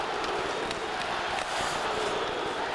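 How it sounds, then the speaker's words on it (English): A loud hockey arena crowd chants for the Blues during a game, a steady, dense roar of many voices filling the whole clip. "They're loud, chanting, "Let's go Blues.""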